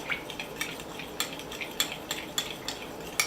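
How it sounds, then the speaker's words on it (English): Honey being stirred into warm oil in a small bowl, a hot oil hair treatment mix, gives faint, fairly regular clinks and scrapes of a utensil against the container, about one every half second, quiet and close with no talking. "I'm gonna give it a good stir just to get the honey diluted in the warm oil"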